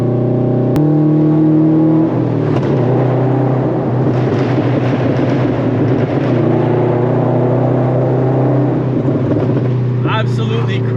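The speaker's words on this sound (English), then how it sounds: "you guys are going to be able to hear the car even louder than it is normally." A straight-piped Scion FR-S / Subaru BRZ / Toyota 86 revving loudly inside a tunnel with the windows down, strong harmonic engine drone rising and falling, with echoing reverberation and a crackle near the end.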